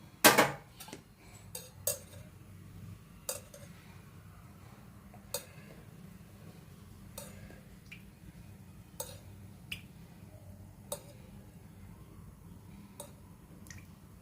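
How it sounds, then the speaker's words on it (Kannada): A kadai is set on a lit stove and oil goes in for bitter gourd palya: sparse, quiet metallic clicks and clinks, one sharp cluster at the start, then single taps spaced a second or two apart over a low hum. "ಸ್ಟವ್ ಹಚ್ಕೋತೀನಿ, ಕಡಾಯಿ ಇಡ್ತೀನಿ, ಆಯಿಲ್ ಹಾಕೊಳ್ಳೋಣ"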